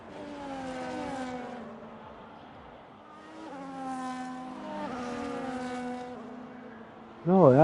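Race cars on a formation lap in a racing video game drone and whine as engines rise and fall in pitch, several overlapping buzzing tones passing at moderate loudness, with a sharper rev near the end.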